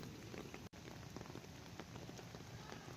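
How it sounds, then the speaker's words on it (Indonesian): Heavy rain lashes down in Jakarta amid strong wind, a dense, steady hiss of drops hitting surfaces that stays loud throughout, broken only by a split-second cut. "hujan deras disertai angin kencang yang terjadi di Jakarta"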